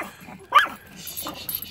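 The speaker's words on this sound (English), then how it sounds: "So those that wonder, does baby MaeMae ever bark? Yep. There's your answer" A small dog lets out a sudden sharp bark or two, close by and brief, amid a quiet room with faint background noise.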